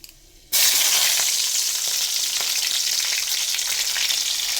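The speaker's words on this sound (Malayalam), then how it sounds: "ലാസ്റ്റ് ഇതിനകത്ത് കടുക് താളിക്കാനുള്ളതാണ്. കുറച്ച് ഉഴുന്നും പരിപ്പ് ഇട്ടിട്ടുണ്ട്" Mustard seeds and urad dal hit hot oil for tempering, bursting into a loud, close, continuous sizzle after a moment of quiet, with faint pops running through it.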